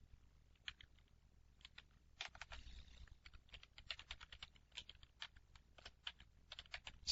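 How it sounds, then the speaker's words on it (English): Rapid, irregular keyboard clicks from close by, typing in bursts with short pauses between, fairly quiet with a low background hum. "It's tougher typing when somebody's looking over your shoulder."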